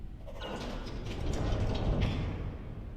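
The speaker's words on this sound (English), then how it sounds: "They're not gonna hear this door open." A sci-fi door slides open in the Star Trek Resurgence video game, a smooth mechanical whir with a soft creaking grind that swells and fades over a few seconds, with no voices.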